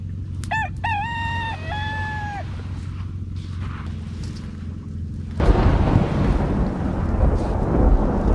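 A thunderstorm at a campsite: a rooster crows a few times over a low rumble, then heavy rain starts suddenly and roars steadily and loudly to the end.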